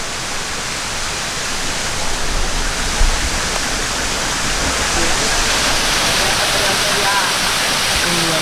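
The Air Terjun Harimau Berjemur waterfall roars as a dense, steady rush of falling water, loud and close, holding evenly throughout with a brief faint voice in the mix.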